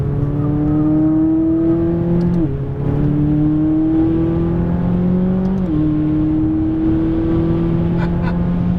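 A McLaren 570S on a racetrack brakes and shifts down, its loud engine holding a steady drone that dips in pitch at each downshift, heard close from inside the car.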